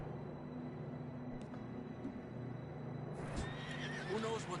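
Horses in the Red Dead Redemption 2 video game snort and whinny over a steady ambient bed, with faint hoof movement, the loudest neighing coming near the end.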